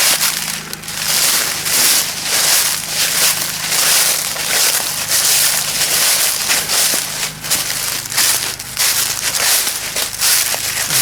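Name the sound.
generator starting up and running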